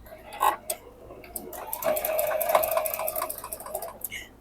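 Sewing machine stitching quilt block pieces for a Tula Pink modern quilt, a close, steady whirring run that builds for a couple of seconds with light clicks at the start and end.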